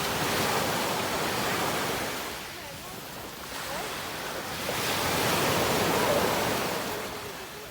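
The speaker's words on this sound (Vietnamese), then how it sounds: "ở đây sóng to lắm" Big sea waves roll onto a beach in a loud, continuous surf roar that swells and eases twice, with wind buffeting the microphone throughout.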